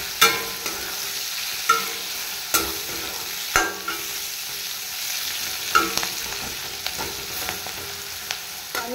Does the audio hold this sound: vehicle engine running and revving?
no